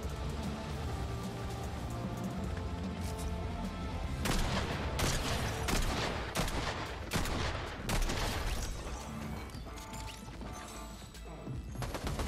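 Monarch pistol gunfire in Fortnite Chapter 5 Season 4, heard as a fairly quiet, dense run of repeated sharp shots and impacts with game ambience between them.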